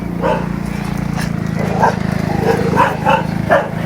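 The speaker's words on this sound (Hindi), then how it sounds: "पता नहीं कुत्ते को क्या प्रॉब्लम हो रहा है" A dog barks several times in short bursts on a street in Pai village in northern Thailand, over a constant motor hum, with someone talking nearby.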